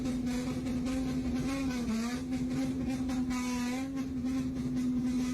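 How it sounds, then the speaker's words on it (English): A Bosozoku-style car exhaust revs and holds a loud, steady droning note that dips briefly and then climbs again, close and continuous throughout. "There we go, that's the revving."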